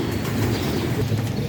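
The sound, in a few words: Teddy pigeons cooing in a pigeon loft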